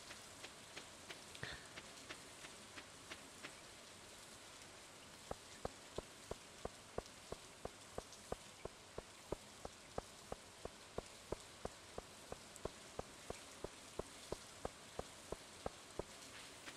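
Rain falls steadily in the Stardew Valley farming game, a soft continuous patter with regular sharp droplet ticks, heard alone without voices.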